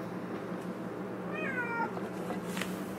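A stray cat gives one clear, drawn-out meow close by, faint against low steady background noise, with no talk.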